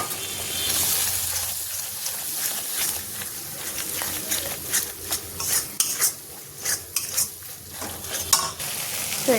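A spice paste of ground mustard and poppy seed is stirred and fried in a pan for a fish curry, with a soft steady sizzle under repeated scraping and clinking of a metal spoon that grows more pronounced toward the end.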